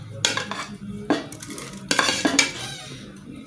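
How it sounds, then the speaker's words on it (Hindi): Onions go into a cooking pot already holding yogurt, turmeric and salt for palak gosht, with a few sharp metallic clinks and scrapes of utensil against pot in quick bursts, close and clear, no talking. "अब मैं इसमें प्याज डालूँ।"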